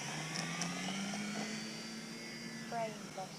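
An electric motor on an FMS PA-18 1300mm RC model airplane revs during takeoff on a cold, snowy, windless day, a thin rising whine holding steady and fairly faint over light outdoor background.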